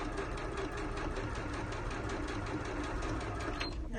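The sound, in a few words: sewing machine sewing a straight stitch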